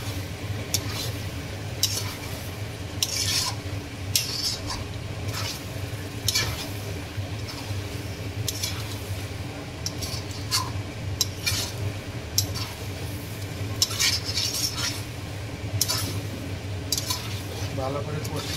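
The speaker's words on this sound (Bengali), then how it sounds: "ভালো করে এবার কষিয়ে নেব" Spicy mutton curry stir-fried in a pan, with repeated metal spatula scrapes and clinks over a low steady sizzle, the stirring rhythmic throughout; a voice speaks faintly at times.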